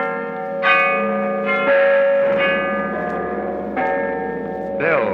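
Church bells ring out in a radio drama, several resonant strikes with long humming decays overlapping one another, clear and prominent with no speech over them.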